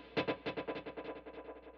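Electric guitar through a transistor tape delay on an HX Stomp stacked with a TC Electronic Nova delay, picked notes dissolving into a dense, overlapping wash of rapid echoes, steady and unaccompanied.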